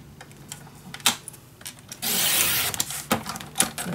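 Paper being cut with scissors while making a vintage winter mini album, a few crisp snips and rustles with one longer cutting stroke in the middle, close and fairly quiet.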